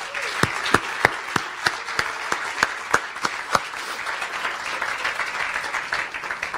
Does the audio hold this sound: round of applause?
yes